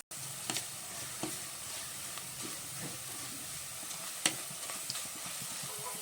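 Food frying in a pan for a festive Kerala dish: a soft, continuous sizzle and hiss, with a few faint clinks and scrapes from occasional stirring.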